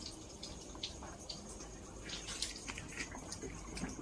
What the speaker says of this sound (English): You see the water going out,